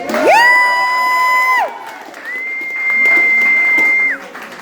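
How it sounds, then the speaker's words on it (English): Audience at an art prize opening night applauds and cheers, with two loud, long piercing whistles cutting over the crowd noise. "round of applause"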